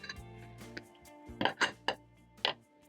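A pressure cooker of cassava and beef stew is opened and tilted, giving a few sharp metal clinks and clanks up close, spaced irregularly, with no talking.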